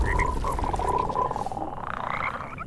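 A frog in the video game Mortal Shell Enhanced Edition croaking loudly and close, a continuous throaty warble lasting the whole moment over a low rumbling game ambience.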